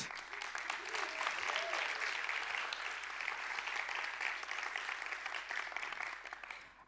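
Applause for TEDx speakers at a Wageningen University event fills the room as a sustained, dense crowd clapping, heard slightly distant and steady before tapering at the end.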